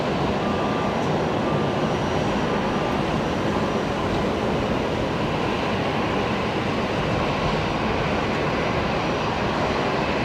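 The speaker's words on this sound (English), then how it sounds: "A330 now heading along taxiway Alpha." An Airbus A330 airliner taxis along a taxiway at Brisbane Airport, giving a steady, broad engine roar that holds loud and even throughout with no voices over it.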